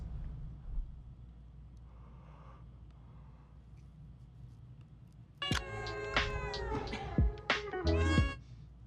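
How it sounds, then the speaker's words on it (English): A kitten meows several times in quick succession, loud and close, with high, wavering cries that break out after a stretch of quiet room tone. "Oh no, something wrong with my kitten."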